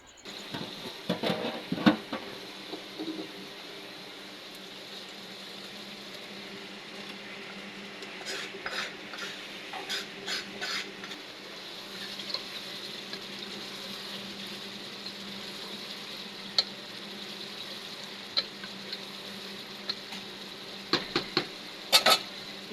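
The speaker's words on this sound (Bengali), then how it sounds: "আম্মু এখন মশলা কষে নিচ্ছে" Spices are stirred and fried in a pot, heard as a low steady background hum broken by scattered metallic clinks and scrapes of a spoon against the pot.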